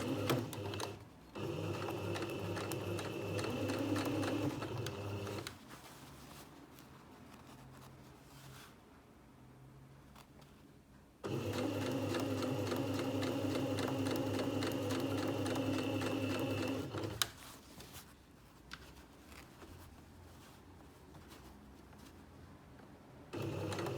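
A sewing machine stitching a v-neck facing runs in two long, steady whirring bursts with a pause between, close and fairly loud, and a brief third run starting at the end.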